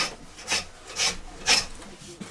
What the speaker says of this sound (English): sometimes I've got to somehow try and just finish this by sanding it